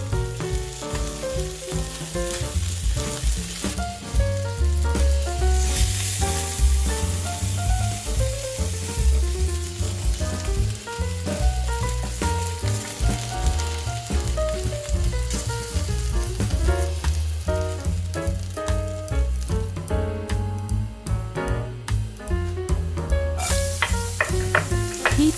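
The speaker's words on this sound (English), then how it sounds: "Heat up some oil and start stir frying the garlic, ginger and chilli on medium heat." Garlic, ginger and chilli stir fry in hot oil over medium heat, a steady dense sizzle with crackling spits and occasional scraping stirs, close and continuous, with no voices.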